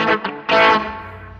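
An electric guitar with a carbon neck and tone boost gives bright, wah-like distorted chords, a short stab, then a louder strum ringing out and slowly fading, with no talking.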